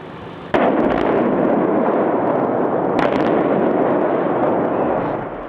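Demolition implosion of Penn State's Beaver Stadium: a sudden sharp blast, then a sustained heavy rumbling roar of collapse, a second loud crack about halfway through, and the roar trailing off at the end.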